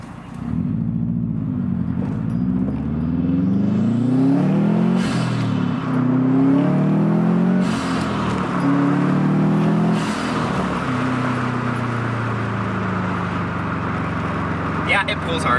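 Subaru WRX STi accelerating hard under turbo boost, engine note rising through the revs with loud, continuous rumble and whir from inside the car, a gear change breaking the climb, while a voice talks over it.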